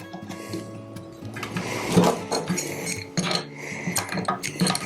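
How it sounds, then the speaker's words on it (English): An air chuck is screwed into an air regulator during a foam cannon installation, giving close, light metallic clicks, scrapes and rattles in quick irregular bursts. "Now we'll take our air chuck. We're going to screw it into the air regulator."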